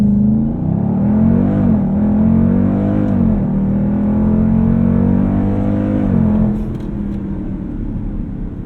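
A 2020 Dodge Durango SRT launches at full throttle using launch control, its engine roaring loud and close with a sustained rising drone, brief dips at each upshift, then easing off near the end.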